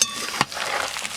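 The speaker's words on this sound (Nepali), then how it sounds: "अब प्याज पनि हालिदिउँ होला" Onions tossed into black pork sizzling in a pan, a sharp burst of frying hiss and a stirring scrape, close and loud, then a steady sizzle.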